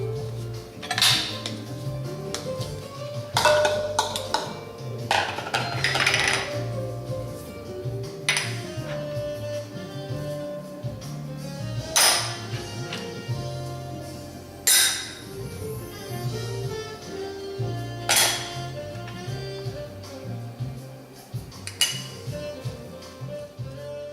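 Crab cake ingredients with lemon juice are stirred together in a medium-sized bowl, with a utensil scraping and clinking against the bowl in irregular bursts and sharp taps, close by, with no talk.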